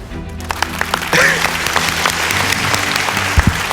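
A studio audience at a Malayalam comedy TV show applauds after a dance act, steady clapping at moderate distance with a few sharper claps standing out and a faint tonal background underneath.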